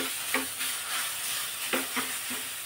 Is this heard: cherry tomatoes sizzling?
yes